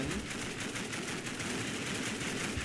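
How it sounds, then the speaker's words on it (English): Sustained automatic fire from the E11 light machine gun in a sci-fi shooter game, a dense continuous rattle of rapid shots at steady loudness throughout, with no voices. "So the Antarians also get a light machine gun, this one, the E11."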